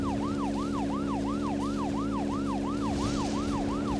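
Police car siren in the Deadly Premonition video game wails in a fast, regular rising-and-falling cycle, loud and close over a low engine drone, with no talk.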